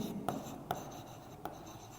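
Chalk scratches across a classroom board during an English grammar lesson, soft continuous strokes broken by three light taps, faint and without speech.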